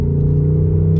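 Engine of a 2024 Ford Mustang GT blipping for an automatic rev match during a shift, a steady loud close rumble heard from inside the car, brief and without speech.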